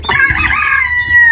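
Chickens cluck and a rooster crows close by on a farm, a loud, continuous stretch of squawking calls with no talk over it.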